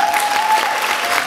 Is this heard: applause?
yes